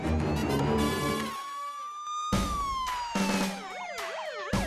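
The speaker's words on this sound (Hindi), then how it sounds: "ये सायरन बंद करो।" A police car siren wails up close, a loud electronic siren switching between a steady rising tone and a fast warbling yelp, cut off briefly mid-way before starting again.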